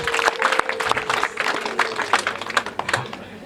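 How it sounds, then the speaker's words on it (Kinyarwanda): A wedding ceremony crowd breaks into applause, a dense run of near, uneven claps with a few voices mixed in. "Amashyi menshi cyane Imana."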